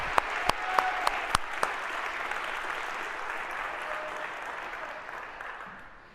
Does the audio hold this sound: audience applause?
yes